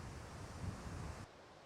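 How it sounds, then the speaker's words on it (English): Wind gusts buffet an outdoor microphone in a spring vegetable garden, a steady, loud roar of broadband rumble that drops off abruptly near the end, with no voices. "sorry about the wind"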